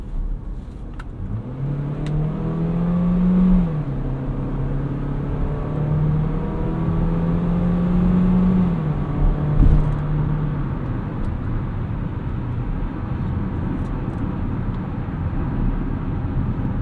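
A 2022 Chevrolet Equinox RS AWD pulls up to highway speed, heard from inside the cabin as a smooth, rising engine drone with a gear change partway through under constant road and wind roar.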